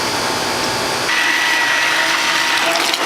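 An immersion blender pureeing a pot of cooked soup gives a loud, steady motor whir that shifts to a higher, brighter whine partway through as the blade churns the soup, with no talking.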